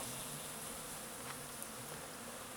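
A steady, even buzzing of many honeybees on a winter cleansing flight at an apiary hums continuously, close and fairly quiet, with no voices.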